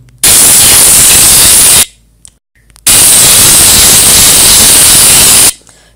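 A bald-head app plays a hair-shaving effect: two long bursts of loud, harsh electric-clipper buzz and hiss, each lasting well over a second, separated by a short gap of near silence.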